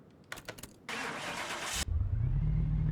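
A 2JZ engine swapped into an AE86 in Car Mechanic Simulator 2: a few short starter clicks, about a second of steady cranking, then the engine catches and settles into a low, rumbling idle.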